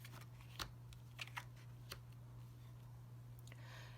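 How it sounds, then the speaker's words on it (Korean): Tarot cards spread across a table, a few soft flicks and light taps scattered over a few seconds with a brief swish near the end, very faint and close over a steady low electrical hum. "키워드 카드 펼치겠습니다"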